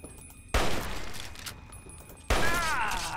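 Gunfire in Fallout 3: two sharp, loud shots about two seconds apart, each with a short ringing tail over quiet background ambience.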